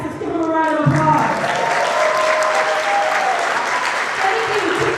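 Sustained applause from a convention audience, steady and full for the whole stretch, with some voices and a few whistle-like tones rising above the clapping.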